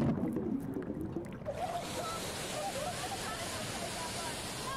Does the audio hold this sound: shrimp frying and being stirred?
no